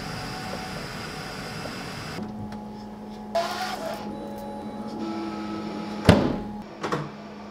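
A Bambu Lab H2D 3D printer prints PLA chain links, a steady mechanical hum and whine with shifting motor tones, punctuated by a sharp clunk and a couple of smaller knocks near the end.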